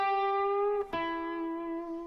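A single sustained jazz-blues guitar note, the third of the chord, held clearly with a slight upward bend partway through and a brief break before it rings on alone, bright and close.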